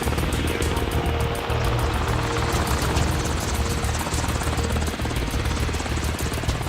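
Black Hawk military helicopter, a loud continuous rotor chop with rapid rhythmic blade pulses over a steady turbine roar, close and unbroken for the whole stretch.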